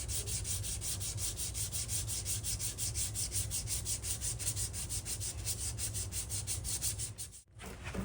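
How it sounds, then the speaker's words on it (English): Rapid rhythmic rubbing of hand sanding on a corroded aluminum fork goes on steadily with a scratchy, even texture, then stops briefly near the end. "Lightly sand it."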